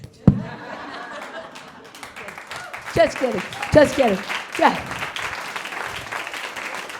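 Applause and scattered laughter from a comedy club audience at a live stand-up show, a soft, diffuse patter running beneath a comedian's speech, which rises into brief louder bursts.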